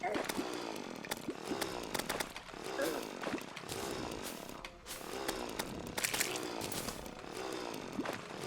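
A Reaver Shark chainsaw weapon revving and grinding in a video game, harsh rasping bursts repeating throughout with game effects mixed in, and a voice talking over it.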